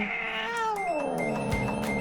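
A cat recovering after surgery meows in a long, drawn-out wail with a falling pitch, close and fairly loud, in a quiet room with no talking.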